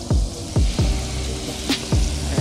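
Fish fillet frying in butter in a hot pan, a steady close sizzle and crackle with repeated soft low thumps and pops throughout, no talking.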